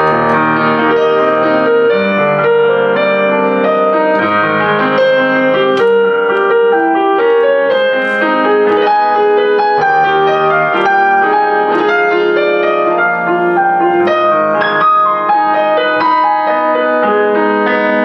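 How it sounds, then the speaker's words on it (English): A Yamaha CFX concert grand piano sample played through the soundboard of a Yamaha U1TA3 TransAcoustic upright piano, with a flowing run of rich, resonant chords and melody, sustained and loud throughout, with no talking. "in this case I've got the Yamaha CFX Concert Grand Piano, the very best piano that Yamaha produced to play with, it's using the soundboard as the speaker"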